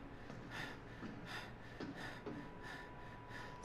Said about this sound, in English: Stop breathing so damn hard.